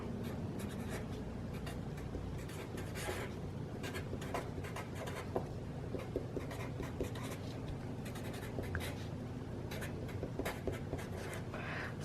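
Pen scratching steadily across paper, writing out a short phrase for a love spell; close, quiet strokes in uneven bursts with no voices.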